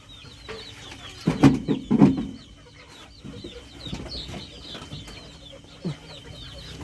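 Chickens in a small backyard coop cluck repeatedly, with a few louder close bursts around the second and third seconds and softer scattered calls throughout, alongside chirping birds in the background.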